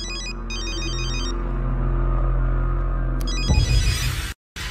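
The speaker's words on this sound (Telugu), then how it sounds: "అన్నా, ఫోన్ అన్నా." A telephone rings in a scene from the Telugu film Balu, with repeated electronic ring tones over a low steady hum before a louder burst and a brief cutoff.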